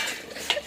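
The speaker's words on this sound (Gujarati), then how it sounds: "ચલો જો આવા વાસણ ઘસાય બેન" Metal dishes and utensils scrubbed by hand, a brief close clatter and scrape of steel with a sharp clink near the end, no speech.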